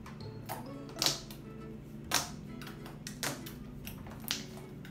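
Sharp, separate clicks and pops from homemade slime being stretched and pressed, several spaced across a few seconds over a steady background hum.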